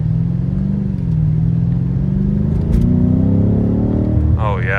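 BMW M5 Competition F90 in four-wheel-drive sport mode with traction control off, engine note rising hard under acceleration from inside the cabin, with a driver speaking over it.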